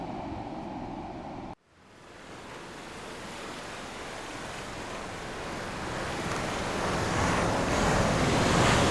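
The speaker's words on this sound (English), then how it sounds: "The splash of waves" Surf breaking and washing in on Kannur's drive-in beach, a steady loud roar of waves with wind buffeting the microphone, building slightly toward the end after a brief cut near the start.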